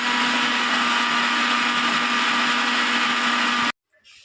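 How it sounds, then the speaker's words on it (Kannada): A kitchen mixer grinder grinds sprouted green gram masala for sambar with a loud, steady whine and a constant hum that cuts off abruptly near the end, leaving quiet clicks. "ಸೊ ಬನ್ನಿ ಇದನ್ನು ಕೂಡ ಫಸ್ಟು ನುಣ್ಣಗೆ ರುಬ್ಬಿಬಿಡೋಣ"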